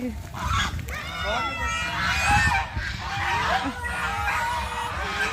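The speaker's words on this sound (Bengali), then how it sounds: "দেখো রাজহাঁসের লড়াই, দেখো আম্মা, ওরা আবার লড়াই করবে" Domestic geese honk and squawk loudly in an agitated fight, harsh overlapping calls close by, with a person talking underneath.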